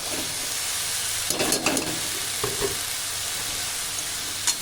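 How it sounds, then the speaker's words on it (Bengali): Boiled cabbage stirred into a sizzling tomato spice masala, a loud steamy hiss under a few scraping stirs of a spoon in the pan. "বাঁধাকপি দিয়ে খুব ভালো করে নেড়ে নেব"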